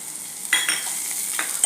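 Tomato frying with chili powder and turmeric for a Maharashtrian brinjal bharit, with a spoon scraping and stirring the pan several times over a constant sizzle.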